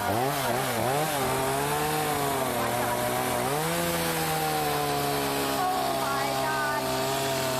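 A chainsaw carves a wooden sculpture shaped like Texas, its engine revving and wavering up and down, then settling into a loud steady cutting drone close by throughout.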